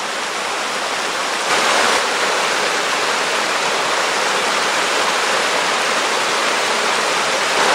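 A steady, loud roar of falling water in Michaux State Forest, dense and continuous like a waterfall heard up close, with no voices.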